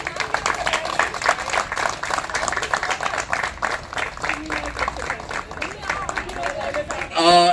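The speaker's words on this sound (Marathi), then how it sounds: "आपण सगळेजण आपल्यासाठी टाळ्या वाजवूयात." A group claps for itself after a fitness exercise session, with steady, scattered applause running throughout while voices talk and call out over it.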